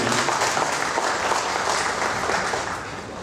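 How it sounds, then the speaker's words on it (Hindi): Dense applause from an audience at a motivational achievers' event, steady and loud throughout before tapering slightly at the end, with no voices over it. "तालियां हो जाए एक बार गुप्ता जी"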